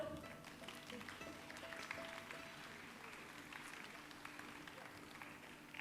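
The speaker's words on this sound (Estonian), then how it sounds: "Aplausiga palun lavale." An audience at an outdoor gala in Viimsi, Tallinn applauds as a girls' choir walks onto the stage, steady moderate clapping that continues throughout at a distance.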